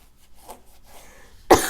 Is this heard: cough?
yes